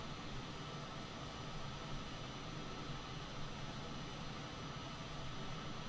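An aircraft engine held at full throttle in Microsoft Flight Simulator 2020 during a flight out of Bermuda, a constant, even roaring drone with no pauses or voices.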